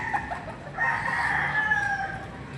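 Chickens clucking near a rooster that lets out a clear crow, a fairly close call stretching across most of the moment over faint farmyard background.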